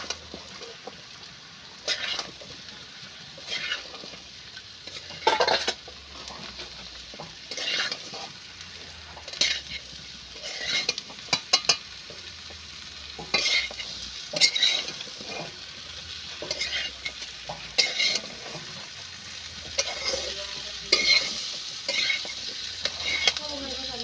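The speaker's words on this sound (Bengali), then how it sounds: "এবার আমি আলুটা দিয়ে দেবো। আলু দিয়ে আমি ভালো করে কষিয়ে নেব।" Potatoes stir-fried in spice masala for a fish curry sizzle steadily in the pan, while a spoon scrapes and stirs at close range in repeated bursts, with no voices.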